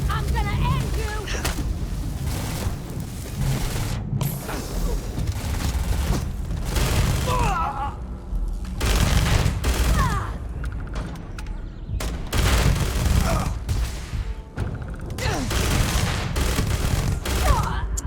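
Rapid bursts of gunfire from the video game Starfield crack in loud, repeated volleys with booming impacts throughout, while someone talks excitedly over the shooting.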